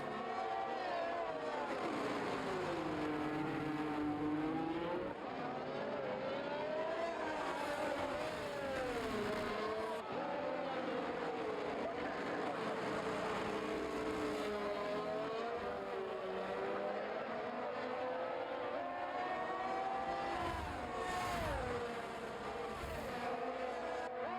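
Mercedes and Ferrari race cars lapping the Baku street circuit in Azerbaijan, engines screaming continuously with rising and falling pitch through gear changes, loud and close with no talk.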